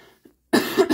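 A woman with a cold and chills coughs twice in quick succession up close. The first cough is harsh and sustained, and the second is shorter and follows right after a brief gap.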